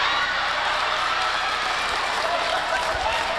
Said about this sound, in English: Hard to hear what Bubba's saying with all the crowd noise here